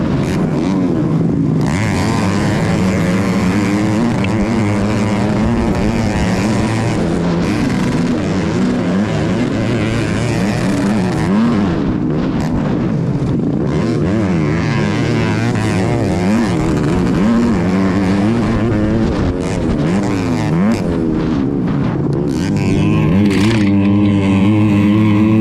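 Racing motorcycles on a circuit, engines screaming loud and continuous as bikes pass with wavering, overlapping pitches, a dense roar that barely lets up and swells again at the end.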